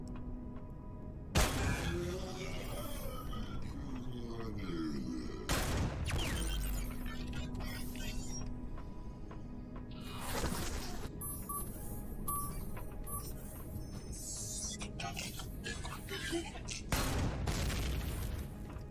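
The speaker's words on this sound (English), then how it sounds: "I'm using my new Gauss shotgun" Gauss shotgun blasts in the sci-fi game Empyrion Reforged Eden, several loud broadband bursts at irregular intervals over constant game ambience and mechanical hum, with echoing tails between shots.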